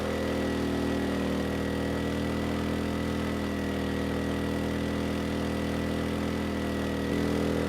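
An ERAYAK 4500W dual-fuel inverter generator runs on propane under a 3,000-watt load. It gives a steady, even engine drone throughout with no change in pitch, and no one speaks.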